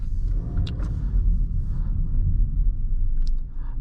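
Low, steady road rumble fills the cabin of a 2021 Volkswagen Passat as it drives slowly toward a parking spot, with a couple of faint higher clicks over the continuous drone.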